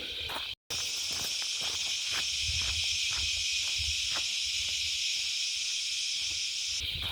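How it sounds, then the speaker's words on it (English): A dense, shrill chorus of cicadas fills the bush on a summer bushwalk, continuous, loud and unbroken, with faint soft footfalls and rustling below. "In amongst all the cicadas I can hear some bees buzzing"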